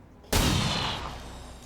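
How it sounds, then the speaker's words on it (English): A single sharp pistol shot in XCOM 2, a sudden loud crack that rings out and decays over about a second, standing alone. "But we'll go ahead and use our pistol."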